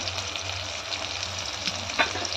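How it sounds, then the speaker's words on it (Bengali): Chopped tomato, green chili and ginger fry in hot oil with a steady, close sizzle and a few louder crackles near the end. "তেলে প্রথমে টমেটো কুচি দিয়ে দেবো তাদের লঙ্কা কটা দিয়ে দেবো আদাটা দিয়ে দেবো"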